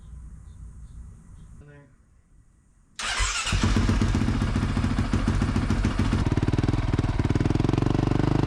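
A dirt bike engine starts abruptly after a quiet stretch with a short rising whine, then runs loud and close with a steady, rough, throbbing roar to the end.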